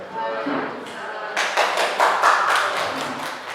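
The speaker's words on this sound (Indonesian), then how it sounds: "Yeay, tepuk tangan lagi lah kita ya" A small group claps at a school teachers' gathering, a few sparse claps building into a short run of distinct, close claps, with a voice over them.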